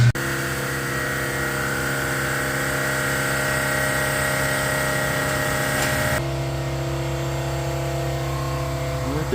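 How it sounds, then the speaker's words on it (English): A high-pressure pump on a car hums steadily and loudly up close during a brake installation, with its tone shifting lower partway through as it keeps running. "High pressure pump is working"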